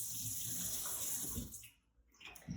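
Water runs from an automated kitchen faucet into a sink, a close steady splashing that stops partway and then briefly resumes.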